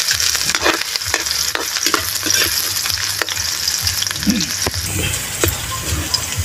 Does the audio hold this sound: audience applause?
no